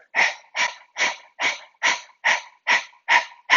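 A person pants rapidly with tongue out in a breath-of-fire exercise, imitating a dog: about nine evenly spaced, breathy huffs, close and clear, with no talking.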